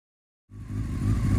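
A 600cc motorcycle engine starting up, with brief silence before an abrupt onset into a low, steady rumble that keeps running to the end.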